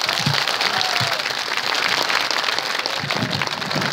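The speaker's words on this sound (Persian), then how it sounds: "تشویق مضاعف" An audience gives a child poet a dense, steady round of applause after a Balochi poetry recital, loud and close, sustained for the whole stretch with no pauses.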